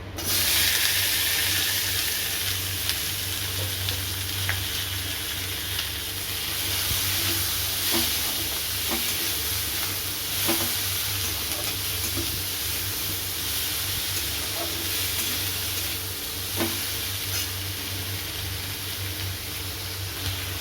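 Onion, ginger-garlic paste, garlic, tomato, green chilli and capsicum frying together in oil, a steady close sizzle with occasional stirring clicks and scrapes throughout, no voices.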